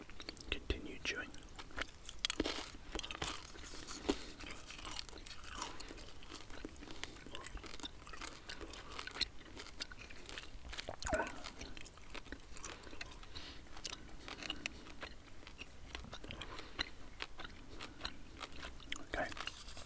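Close, quiet chewing of peppermint flavoured PK gum, soft wet smacks and squelches repeating irregularly over a long stretch, with faint whispering at times.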